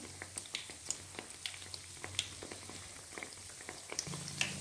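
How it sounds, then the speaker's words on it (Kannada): Chana dal vadas, made from a batter with rice mixed in, frying in oil; a steady soft bubbling fizz with small crackling pops, faint and continuous throughout, with a low hum entering near the end. "ಚೆನ್ನಾಗಿ ಫ್ರೈ ಆಗ್ತಿದೆ"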